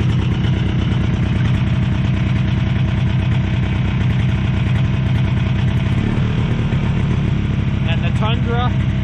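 A cold Yamaha Bravo snowmobile engine idles loudly and close, with a steady, rapid two-stroke chug and faint rattling throughout, and a brief voice near the end.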